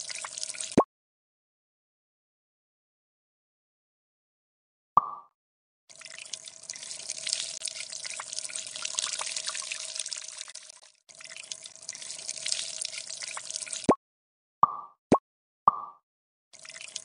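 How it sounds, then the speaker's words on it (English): Water from an opened bottle splashes out in a science experiment, coming in bursts with sudden silent gaps and a few sharp drips and plops, close and fairly loud. "You can see the water coming out from the bottle."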